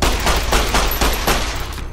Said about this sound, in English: this is the 45 pistol